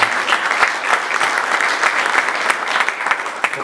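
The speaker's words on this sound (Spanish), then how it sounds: "Un fuerte aplauso para la compañera gerenta regional." Loud, continuous applause from an indoor crowd at a regional accountability assembly, dense clapping sustained evenly throughout with no voices rising above it.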